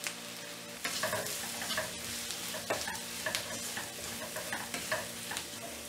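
Brinjal pieces mixed with sambar powder are stirred in hot oil, giving a steady sizzle and frying hiss with intermittent scrapes and clacks of the spoon against the pan, with no voices.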